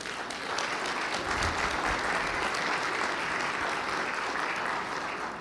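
A room at an annual meeting gives a round of applause for the new bookkeeper, steady, moderately loud clapping from many hands lasting throughout without interruption.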